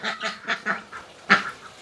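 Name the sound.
ducklings quacking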